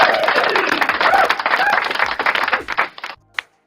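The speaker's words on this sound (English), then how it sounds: "we're clapping for everybody today." Dense applause from a group of people clapping steadily, thinning out and stopping near the end, followed by a single faint tap.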